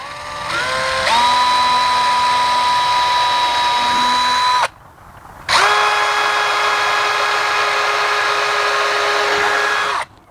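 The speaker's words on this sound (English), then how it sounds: "So what I am going to do is I'm going to pre-drill it slightly right here" A power drill pre-drilling screw holes in Trex composite decking whines loudly up to speed and holds, stops briefly, then runs again at a steady high pitch, close by.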